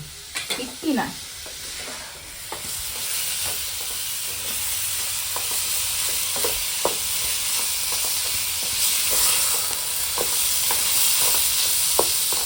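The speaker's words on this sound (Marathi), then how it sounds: "फोडणी जबरदस्त दिल्यात त्यातमध्ये मस्त भाजी टाकायची आणि परतवून घ्यायची" Tender jackfruit stir-fried in a hot spice tempering, a continuous dense sizzle and hiss with repeated spatula scrapes and taps against the pan, close and steady throughout.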